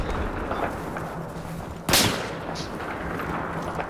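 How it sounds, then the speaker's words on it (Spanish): Gunfire in Battlefield 4 on a rocky hillside, one sharp loud crack near the middle that stands out over a constant low rumble of battle noise. "nos están disparando y no sé de dónde sale"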